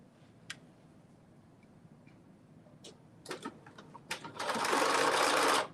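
A sewing machine stitches a seam at a 5/8 inch allowance, with a few scattered ticks and clicks first, then a loud steady whirring run near the end, close by and without speech over it.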